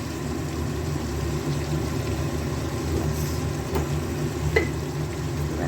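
Spices and ginger fry in a pan on a gas stove, a steady low sizzling hiss with a few sharp clinks and scrapes of stirring, and no voices.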